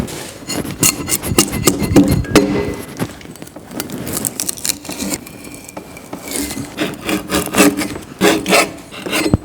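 Broad axe blade being sharpened by hand, a steady series of scraping, rasping strokes against the steel with short pauses, close and fairly loud, no talking.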